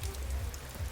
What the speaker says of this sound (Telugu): చూడండి ఫ్రెండ్స్, వాన ఎంత పడతా ఉందో.